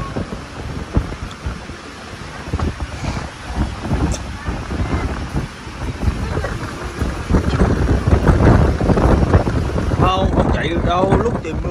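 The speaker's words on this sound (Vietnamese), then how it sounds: "gió đang dông gió thế này nè, gió này là gió giật đó con" Gusty storm wind sweeps past an apartment building during heavy rain, buffeting the microphone in loud, uneven roaring surges that build toward the end, with a person talking underneath.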